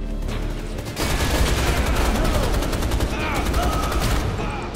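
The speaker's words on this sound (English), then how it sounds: "I don't know why they give me all these machine guns." Rapid, loud machine gun fire from the Rise of the Triad video game rattles in sustained dense bursts, starting after a brief lead-in and continuing nearly unbroken to the end.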